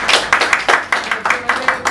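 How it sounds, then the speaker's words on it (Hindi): An audience at an evening business family dinner meeting claps loudly together, producing dense, rhythmic applause that stays steady and close for two seconds. "सबके लिए एक बार जोरदार ताली।"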